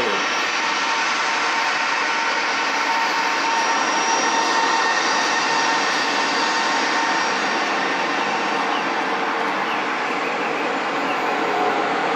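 Steady, loud jet engine roar from an Avelo charter jet on the Signature ramp in Atlanta, a constant broadband whine and rumble that holds without a break from start to finish.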